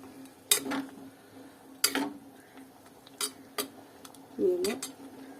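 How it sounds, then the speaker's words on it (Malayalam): Ladle stirring fish curry in a pot, giving a few sharp metallic clinks and scrapes against the pot at irregular intervals, close and quiet. "തവി കൊണ്ടൊന്ന് ഇളക്കാം."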